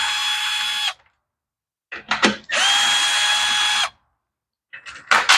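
A power drill or driver backs out the top screws holding the gas tank on a lawn mower, whirring in three close bursts: one long, a short stuttering one, then another long run, with quiet gaps between.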